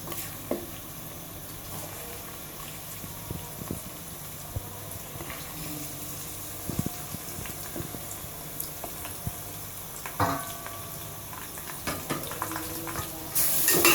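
Chicken fries in oil with onions and curry leaves, a moderate steady sizzle punctuated by frequent clacks and scrapes of a stirring spoon against the pot, growing busier toward the end.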